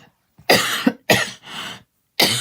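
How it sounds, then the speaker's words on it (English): Four sharp coughs in a quick irregular series, close and fairly loud, with a short throaty catch between the first two. "I hate when I cough because it hurts."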